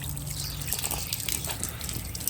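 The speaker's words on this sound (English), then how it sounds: "we got water coming out this end, so we must be doing something right there" Garden hose water flushing in reverse through the cooling jacket of a 2016 Mercury 40hp outboard, a steady close trickling and splashing stream with no talk.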